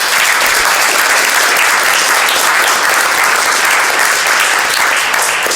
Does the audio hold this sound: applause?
yes